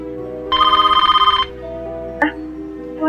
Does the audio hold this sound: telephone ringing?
yes